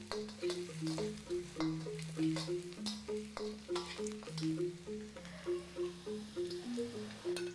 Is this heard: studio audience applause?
no